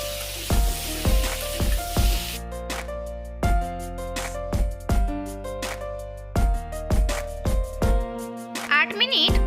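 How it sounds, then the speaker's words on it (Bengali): Small potatoes with turmeric and chili powder fry in a pan over low to medium heat. A soft sizzle runs under loud, regular spatula clanks and scrapes that come in quick bursts. "তারপর সবকিছু লো থেকে মিডিয়াম ফ্লেমে 8 মিনিট ভালোভাবে কষাতে থাকবো।"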